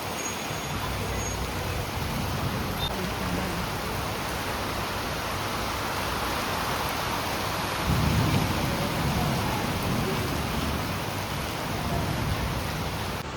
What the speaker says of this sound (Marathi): मस्त पावसाचं आगमन झालं.